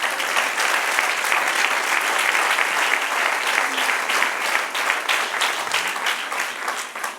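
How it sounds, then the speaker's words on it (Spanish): A church congregation claps for the Lord during a pastor's Bible class, producing dense, sustained applause from many hands that stays loud and even before easing slightly at the end. "Den un aplauso al Señor si puede"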